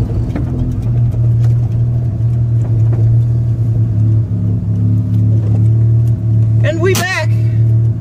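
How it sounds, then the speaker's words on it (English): Mazda RX7 car running on a public road, a steady low engine drone throughout with a brief louder whine near the end, while people talk over it. "we've finally driven the RX7 on the road legally"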